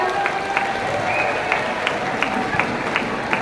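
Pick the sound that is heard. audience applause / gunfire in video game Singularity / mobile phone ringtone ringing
audience applause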